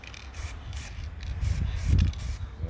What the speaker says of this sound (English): Got to do a few test sprays.